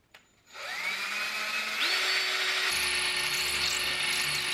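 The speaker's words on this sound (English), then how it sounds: "Now I can drill." A power drill whirs up close, spinning up in stages to a steady high whine with a rising pitch and a ratcheting rattle near the end, with no talking.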